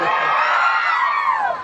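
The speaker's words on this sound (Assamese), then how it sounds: "ইমান চিঞৰিছে" A stage show audience shouts and cheers loudly, a dense wash of many voices whooping and yelling together without a break.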